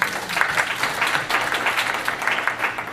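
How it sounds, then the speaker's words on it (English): An audience claps for panelists at an AI and universities conference session, a fairly close, rhythmic wash of hand claps that pulses gently and continues evenly throughout. "Clap for them, please."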